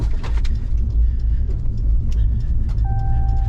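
A 2022 Ram Rebel G/T pickup strains at full throttle while crawling off road, its engine a loud, steady low rumble close by, with faint clicks and a thin whine rising near the end.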